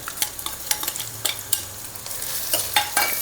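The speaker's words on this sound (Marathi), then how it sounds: "मोहरीची फोडणी दिली आहे मोहरीची फोडणी कांदा लसूण आता लसूणची पेस्ट पण टाकायची" Onion and garlic sizzling in a mustard seed tempering in hot oil, a close steady crackle with repeated sharp spoon scrapes and stirring knocks against the pan.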